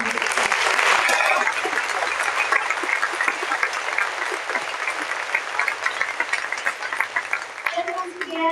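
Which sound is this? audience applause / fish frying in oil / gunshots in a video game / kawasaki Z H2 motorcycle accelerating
audience applause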